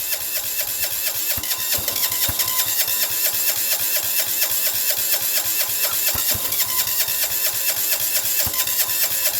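A China Diesel 6HP engine cold-starting at -20 with no intake heater, a loud steady mechanical clatter with irregular knocks and thumps as it struggles, running continuously close up without any talk.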